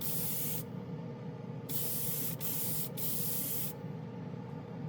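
Spray paint hisses onto white plastic in several bursts: a long spray, two quick short puffs, then another sustained blast, close and clear with no talking.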